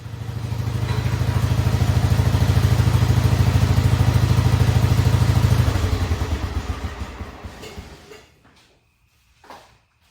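Wheel Horse 1445 automatic garden tractor engine idles loud and steady nearby, a low throbbing drone that cuts off partway through, followed by a few faint clanks and rattles in a quiet shop.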